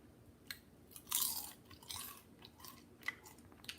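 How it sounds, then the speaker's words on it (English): Biting into a salmon burger, followed by crisp crunches and chewing up close, several bursts spread over a few seconds with no talking. "I want you to hear the crunch."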